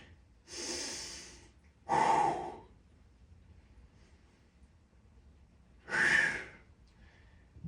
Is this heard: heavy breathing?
yes